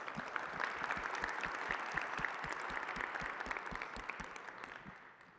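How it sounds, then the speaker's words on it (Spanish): A conference audience applauds the main speakers at the close of an advanced IPv6 tutorial session: dense, steady clapping that carries on for several seconds and then fades. "un fuerte aplauso a los principales ponentes"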